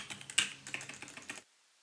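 Quick, close keystrokes on a computer keyboard as a username and password are entered, a brisk irregular burst of clicks lasting about a second and a half before stopping into silence.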